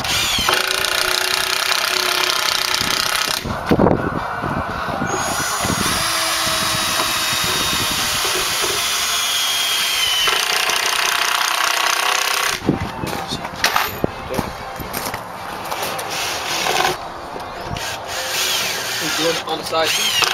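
Power drill driving 3-inch pressure-treated screws into 2x6 lumber while building a box for an osprey platform outdoors, loud continuous whirring bursts with short pauses between screws.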